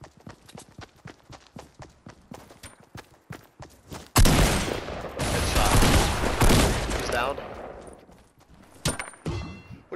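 Automatic gunfire from a Fortnite match bursts in loud and sustained for several seconds, following a stretch of quick repeated footstep-like taps and ending in scattered bursts.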